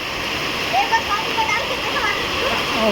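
Heavy rain in Delhi pours and splashes as continuous broadband water noise with small splashes scattered through it. The steady wash holds the same level from start to finish.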